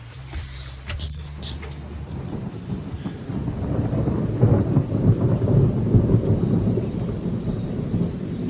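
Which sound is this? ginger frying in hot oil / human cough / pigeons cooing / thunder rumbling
thunder rumbling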